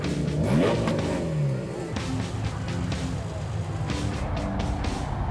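A 1956 Jensen 541 engine rumbles and revs at a European car festival, loud and nearby with shifting pitch, while people talk faintly in the background.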